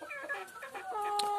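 Village chickens clucking near and close, several overlapping calls with a short high crowing-like note near the end, no voices, light farmyard background throughout.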